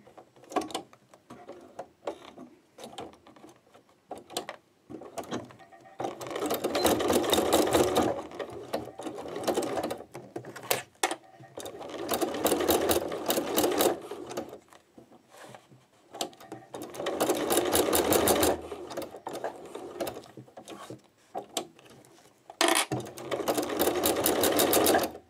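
A sewing machine stitches through thick layers of a card holder in three long, loud bursts of rapid mechanical whirring, each separated by short pauses filled with quieter clicks and handling sounds.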